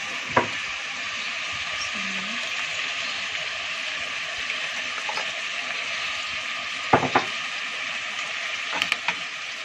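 Onion fries in a pan as tomato sauce is added, producing a steady, close sizzle with a few sharp clinks and stirring knocks scattered through it.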